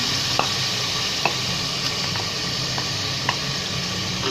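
Masala sizzling and frying in a pan for a restaurant-style white chickpea saalan, with garlic and ginger paste about to go in. A steady close hiss runs throughout, broken by a few sharp spatters and stirring clicks.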